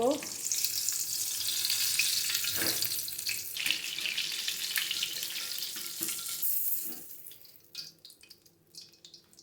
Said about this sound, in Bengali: পুর বেগুন বার্গার ভাজা